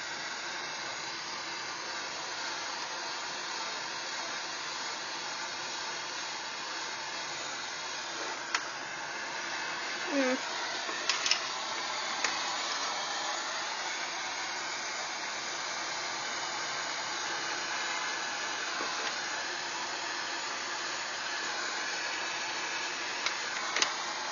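A heat gun shrinks heat-shrink tubing over a wire for a car trickle-charger install, producing a steady, unbroken blowing hiss throughout with a few faint clicks.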